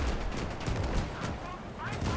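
Gunfire in Call to Arms: Gates of Hell, a World War II strategy video game: a loud, dense rattle of repeated shots and blasts that continues throughout without a break.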